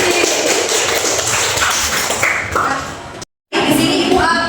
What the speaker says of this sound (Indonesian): tepuk tangan untuk Rizky